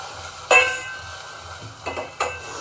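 A spoon scrapes and clinks against a pan while onions, chillies and tomatoes are stirred, with three sharp metallic knocks over a faint, quiet background.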